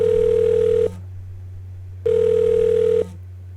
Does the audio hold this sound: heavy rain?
no